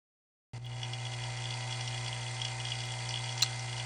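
A vacuum pump draws air out of a cigar pen blank, running as a steady mechanical hum that starts abruptly after a short silence and continues evenly, with one faint tick near the end.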